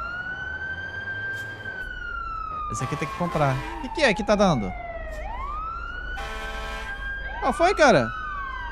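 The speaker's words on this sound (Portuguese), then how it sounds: "Olha lá, a buzina dos bombeiros." A fire truck siren in a video game wails steadily, its pitch sliding down and back up, while people talk over it in short bursts.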